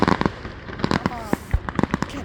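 Fireworks bursting outdoors: a rapid run of sharp bangs and crackling pops, one with a rising whistle, loud and close, with voices talking between the blasts.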